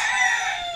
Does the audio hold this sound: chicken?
yes